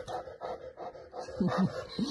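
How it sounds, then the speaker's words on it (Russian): A dog pants in quick rhythmic breaths, then lets out a few high, nasal whines near the end, close by with no voices. "Чего ты скулишь-то?"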